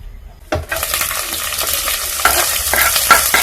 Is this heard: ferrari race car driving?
no